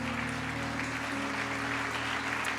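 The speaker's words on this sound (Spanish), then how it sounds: "Denle un aplauso fuerte al Señor." Steady applause from a church congregation after a sermon, continuous, fairly distant clapping over a low, humming background.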